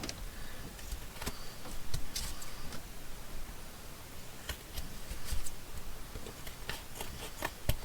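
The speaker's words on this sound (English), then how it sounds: "we'll just trim off the excess paper" Scissors trimming excess handmade paper on a junk journal page give scattered faint snips and rubbing ticks, close and quiet over low room noise, with no talking.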